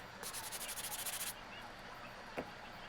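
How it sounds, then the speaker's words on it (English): Sandpaper rubs back and forth over the hard cured edge of a resin ashtray in about a dozen quick, even strokes, close and soft, followed by a single small knock. "we're just going to sand that down here so no one cuts their fingers or anything like that"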